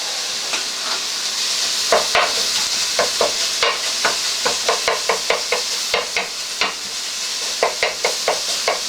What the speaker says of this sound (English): we're going to break all this meat up, brown it, and cook it